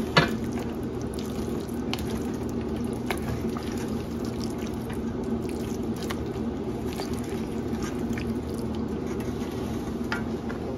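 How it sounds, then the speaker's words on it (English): Broth being added and stirred into chicken pot pie filling, a soft continuous liquid wash with faint scraping clicks of stirring, close and steady with no talk. "Add just a tad bit more broth, and get this stirred up nicely."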